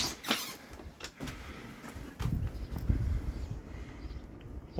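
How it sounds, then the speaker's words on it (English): A door is popped open during a spring blizzard: a few sharp clicks and knocks over a steady rush of wind and outdoor noise. "So I'm going to pop the door open."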